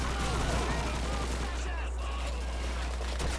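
Heavy gunfire in the World War II shooter Call of Duty 2: dense, continuous bursts of rifle and machine-gun shots crackle on top of a constant low battle rumble, loud and unbroken throughout.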